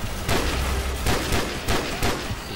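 Gunfire in the video game Call of Duty 4 comes as loud, close shots spaced irregularly across a dense, noisy battle backdrop, with about five heavy reports and no clear talking.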